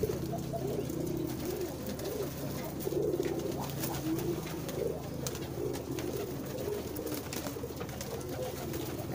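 Domestic pigeons cooing at their coop in a backyard racing-pigeon setup, a steady low murmur of overlapping coos running throughout with faint chirps and background bustle.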